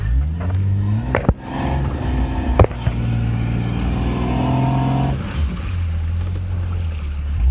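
A lifted 1990 Jeep Cherokee trail rig, 5.5-inch lift, drives into water, its engine droning steadily and revving up, with sudden splashes and surges of water against the body, loud and close, no talking.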